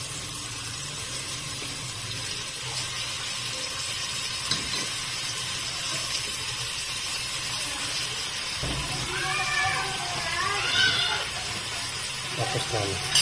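Fish simmers in a pot of sinigang sa miso with a steady close sizzle and hiss. A few stirring scrapes come toward the end, and there is no clear talking.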